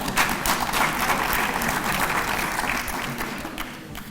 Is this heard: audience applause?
yes